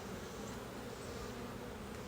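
Honey bees swarm an opened hive during a summer inspection, making a dense, even buzzing hum that holds steady throughout at a soft, close level.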